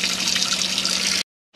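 Hot water gushes steadily from a tap in a Hymer B668 motorhome, a close, even rushing splash that cuts off abruptly, then a short burst resumes.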